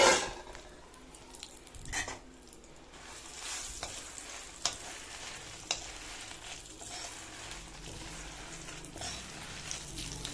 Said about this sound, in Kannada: ಸೊ ನಾನು ಫಸ್ಟು ಗುಂಟೂರು ಕಾಯಿನ ಹುರ್ಕೊತೀನಿ, ಆಮೇಲೆ ಬ್ಯಾಡ್ಗಿನ ಹುರ್ಕೋತೀನಿ.